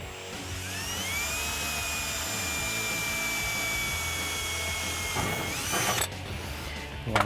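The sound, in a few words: drill with 3/32 bit drilling a pilot hole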